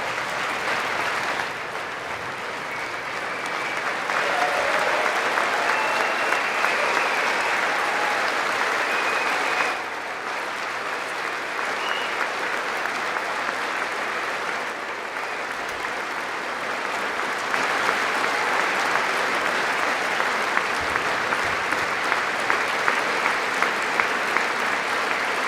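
An audience breaks into sustained, dense applause, loud and steady for nearly half a minute with slight swells, a broad wash of clapping and little else.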